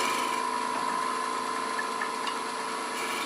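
A wood lathe spins an end-grain spindle at about 1300 rpm, giving a steady, dense, close whir with a constant high whine and faint scraping under it, unbroken throughout.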